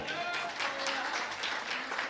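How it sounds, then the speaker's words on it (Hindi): At a Jain religious discourse, an audience claps together in a steady, dense patter of applause, fairly loud and sustained throughout. "ताली बजाओ उनको"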